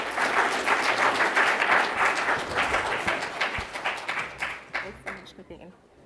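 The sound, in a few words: audience applause for panel speaker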